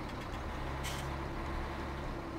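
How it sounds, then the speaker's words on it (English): A truck in Farming Simulator 17 rumbling steadily with a low engine drone, plus a brief hiss like an air brake release near the start; no talk. "But now we're going to bring the truck back."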